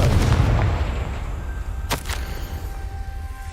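A Confringo blast spell cast in Hogwarts Legacy: a rumbling burst at first, then two sharp, cracking, whip-like impacts close together over a low background hum.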